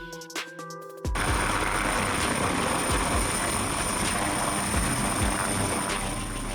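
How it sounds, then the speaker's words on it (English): Helicopter rotors beating steadily and loudly after a sudden start, a continuous engine roar with rhythmic chop sustained throughout. "Helicopter. A type of rotorcraft in which lift and thrust are supplied by horizontally spinning rotors"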